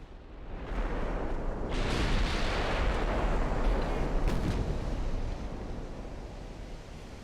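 Big naval guns of warships in Ultimate Admiral: Dreadnoughts let off a heavy boom, followed by a long rumbling roar with a sea-like wash that slowly fades.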